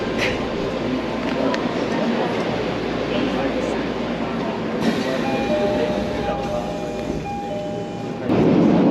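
A Tokyo subway train rumbles along at a steady roar, loud and close, with brief squeals and tones from the car near the end.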